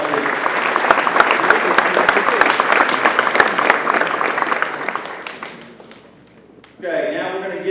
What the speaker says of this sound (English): Give another big round of applause, please.